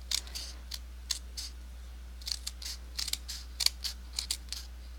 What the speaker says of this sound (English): we are cutting along this score line all the way down to those 1/2 inch score lines